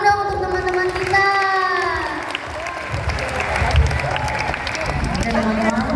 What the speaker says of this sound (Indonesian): Tepuk tangan dong untuk teman-teman kita.